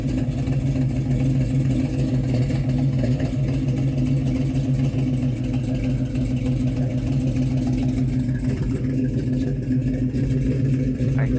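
A 1957 Chevrolet 3100 Big Window restomod pickup with an LS3 V8 runs steadily close by, a constant low rumble with a slight rise in revs near the end.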